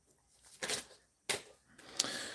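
Tarot cards being shuffled by hand, quiet riffling bursts and sharp snaps in an irregular rhythm, close by with soft gaps between.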